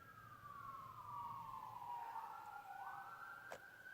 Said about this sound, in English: I'm sorry if you can hear the sirens in the background.